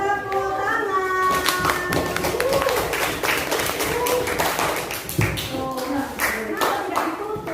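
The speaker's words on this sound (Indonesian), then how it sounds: "ayo mari berikan tepuk tangan" A school class claps hands together in a burst of quick, uneven claps, with children's voices chattering around the clapping.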